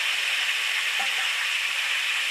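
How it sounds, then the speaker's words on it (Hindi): Garlic and ginger paste frying in a pan, a steady close sizzle and hiss with faint stirring clinks, no voices. "जब तक हमारा लहसुन अदरक का पेस्ट भून रहा है"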